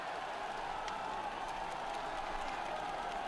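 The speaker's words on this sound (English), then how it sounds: "Tremendous noise from the crowd on the climb here as they push their way to the summit now" Roadside spectators along a cobbled climb at the 2006 Tour of Flanders cheer riders toward the summit, a steady, dense wash of distant crowd noise and clapping with no clear breaks.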